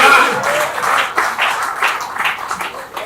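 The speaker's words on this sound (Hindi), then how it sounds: "तालियां बजाइए" Applause and clapping from the audience at a Hindi comedy poetry gathering, a loose spread of hands at middling distance that rises and thins over a few seconds, with a little crowd murmur.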